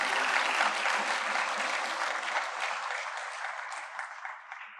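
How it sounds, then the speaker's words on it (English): Hall audience at a Founder's Day celebration applauds warmly, a thick wash of clapping that starts strong and gradually thins out toward the end. "Can we have a round of applause, please?"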